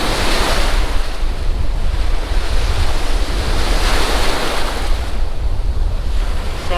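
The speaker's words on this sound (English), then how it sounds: "Waves are pretty darn big." Big ocean waves break and wash on a sandy beach at Van's Beach in Leland, a loud, continuous roaring surf with heavy wind buffeting the microphone.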